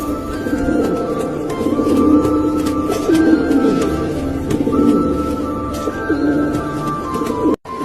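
Pigeons coo steadily at close range, several birds overlapping in low, throaty, rolling calls over a constant murmur of background noise.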